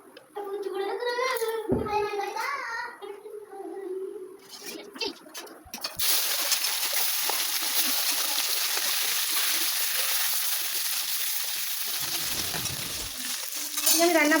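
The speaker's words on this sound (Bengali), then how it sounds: "আর এখানে মাছ ভাজা হচ্ছে" Fish pieces fry in a pan, a loud, even, close-up sizzle that rises abruptly and runs steadily after voices talk at the start.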